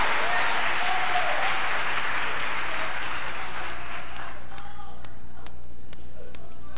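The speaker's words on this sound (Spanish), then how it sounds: "¿Quién va a aplaudir al Señor bien fuerte? Aplauda, aplauda" Church congregation at a worship service applauding loudly together, a dense wash of clapping that swells, then thins and fades out over the last few seconds.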